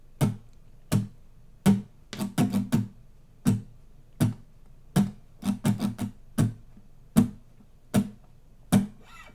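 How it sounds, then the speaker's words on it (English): Acoustic guitar strummed in short, percussive strokes, mostly single hits with occasional quick down-up clusters, played alone with a loose, uneven rhythm. "And every now and then he'll do a up, down, up, down"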